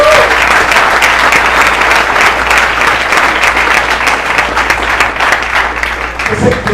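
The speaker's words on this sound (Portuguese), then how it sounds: "Vamos aplaudir o Senhor por essa palavra." A church congregation at a Sunday service applauds loudly and continuously, a thick wash of many clapping hands that holds steady for several seconds before easing off at the end.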